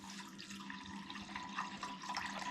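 Water runs steadily from the drain release tool of a Chilisleep Dock Pro bed-cooling system, a faint, continuous trickle that holds its flow without break.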